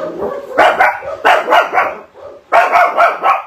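Yuki the dog barking, loud and close, in three quick clusters of barks with brief pauses between them.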